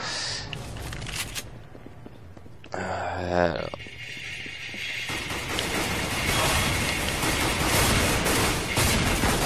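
A pump-action shotgun fires in Counter-Strike: Global Offensive, with a dense burst of gunfire and a brief mechanical rattle among continuous loud, crackling combat noise, close and harsh.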